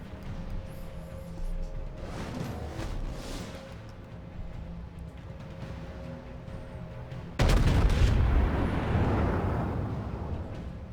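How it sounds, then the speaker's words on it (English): World of Warships battleship North Carolina firing a main-gun AP volley: a sudden heavy, rumbling boom bursts in after a quieter stretch of ambient rumble and distant thuds, then slowly decays. "I fire a volley of AP out at that Lo Yang"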